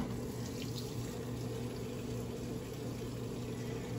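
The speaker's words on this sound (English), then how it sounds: "As you can see, the water is coming out." Water pours steadily into the tub of a Midea smart washing machine during a load of white clothes, a faint continuous rushing fill with a low mechanical hum beneath and no voices.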